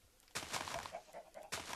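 Game chicken clucking in a Minecraft-style modpack world, a couple of short clucks that start abruptly and are close and fairly loud, with no one talking over them.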